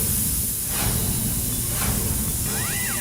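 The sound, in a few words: pressure cooker whistle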